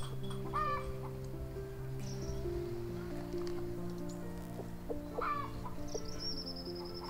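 Chickens cluck and a rooster calls inside a henhouse at the center of garden beds on a Caatinga smallholding, repeated clucks over a steady farmyard background, with distant crowing and no talk.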